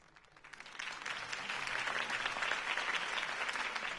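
In the video game Batman: The Telltale Series on PS4, a large crowd breaks into applause that swells quickly and holds as sustained, dense clapping with some cheering.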